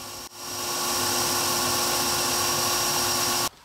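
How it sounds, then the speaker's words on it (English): A belt sander runs steadily on a wooden piece for a model Apache attack helicopter, spinning up quickly and holding a loud, even whine with a faint tonal hum before stopping abruptly. "take it over to the belt sander and trim it up"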